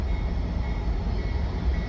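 A train backs into a railway siding, giving a loud, steady low rumble of engine and wheels that stays constant throughout, with no voices.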